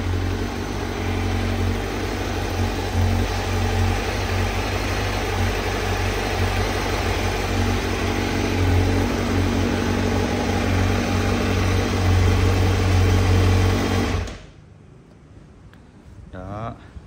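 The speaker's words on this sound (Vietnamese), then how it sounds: "Tiếng động cơ là rất là lớn. Đang là xài bô zin luôn nhưng mà cũng khá là lớn." Honda CBR1000RR-R SP superbike idling on its stock exhaust, a loud, close, steady deep rumble that holds evenly for about fourteen seconds before cutting off abruptly, leaving a faint quiet tail.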